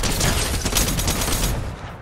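Rapid gunfire in the video game Fortnite: a dense, loud fusillade of overlapping shots rattles nonstop for about two seconds, then starts to fade at the end.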